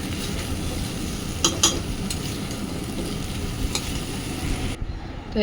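Vegetarian jackfruit curry is stirred in a pot with a steady bubbling sizzle and a few sharp metallic spoon clinks against the rim, before the sound drops away at the end.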